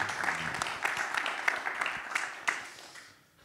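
Audience applauding guests at an evening master class: many hands clap in a dense, lively burst that fades away toward the end, with no voices over it.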